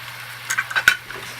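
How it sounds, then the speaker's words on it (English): Spoon stirring a pie filling of Dijon mustard and Worcestershire sauce in a hot pan, a few short scraping strokes over soft sizzling, close and brief. "Stir everything around, and then deglaze with a little bit of beer"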